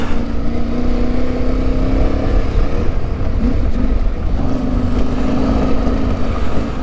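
An Aprilia Tuareg 660 motorcycle ridden off-road on a trail, its engine a steady, loud drone mixed with heavy wind rush, continuous throughout without speech.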